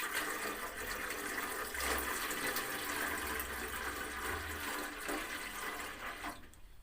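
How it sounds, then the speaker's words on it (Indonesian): Water is poured from a pot into a cassava and yeast mixture for making bioethanol, a steady rushing, splashing pour that runs for several seconds before tapering off. "Ini kita kasih sedikit air ya."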